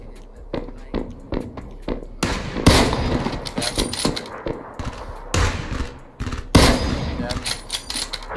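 Close gunfire from the battle royale shooter PUBG comes in sharp, heavy bursts and single cracks, with players talking in between.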